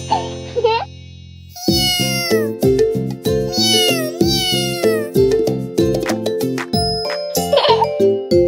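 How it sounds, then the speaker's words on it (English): A cat meows repeatedly, loud and close, in a rapid string of calls over a bright, bouncy musical backing with chiming notes. "I'm a cat. I like to drink milk. I say meow, meow, meow."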